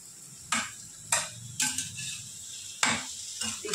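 Okra is stir-fried on high heat in a pan, with four or five sharp spatula scrapes and clacks spaced about a second apart over a soft sizzle, close and clear, with no talk.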